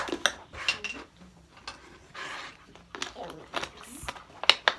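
Slime being mixed with borax in a bowl, heard as a series of close, sharp clinks and scrapes of a utensil against the dish, with children talking throughout.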